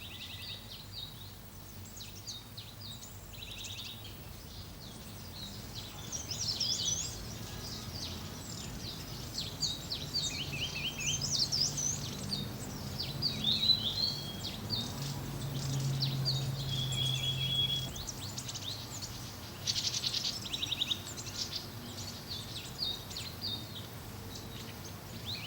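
Flycatcher calls in a Himalayan garden: scattered high chirps and short whistled phrases repeat across the whole span, moderately distant, over a steady low ambient hum with no talking.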